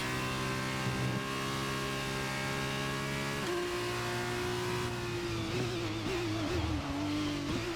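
A race car in the F1 23 game revs hard with a loud, steady engine drone; near the end its tyres briefly lock up and the pitch wavers, with a short squeal-like strain during a wet race in Baku. No one speaks.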